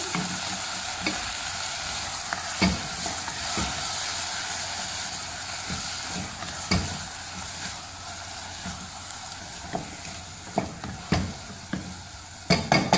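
Mashed brinjal bharta being mixed in a hot pan, a steady close sizzle with scraping stirs of a spoon and sharper clinks of utensil against pan growing toward the end, no voices.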